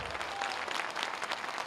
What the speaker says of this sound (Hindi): देखो गड़गड़ा के ताली बजा दे सब लोग